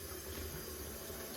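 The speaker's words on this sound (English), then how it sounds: "I'm going to put some cold water in." Cold water runs from a tap into a kitchen sink while a pan of beer wort sits cooling, a steady, even rush of splashing with no pauses, close and fairly quiet.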